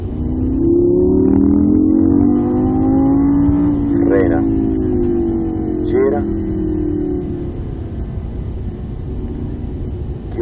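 A Lamborghini Gallardo on a track at Viterbo howls loudly as it accelerates, its engine note climbing in pitch under hard throttle while an instructor's voice talks over it.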